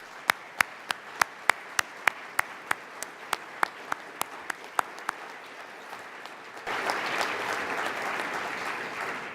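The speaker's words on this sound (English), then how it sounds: "a big round of applause" Applause begins with a single person's slow, evenly spaced claps, then an audience joins in a dense, sustained round of clapping that grows louder toward the end.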